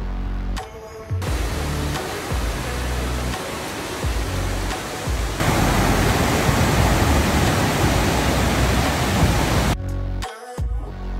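Rushing stream at a trail water crossing near Selden Pass on the Pacific Crest Trail, a steady broadband roar of flowing water that swells louder midway and holds close and continuous, with a few brief handling bumps at the edges.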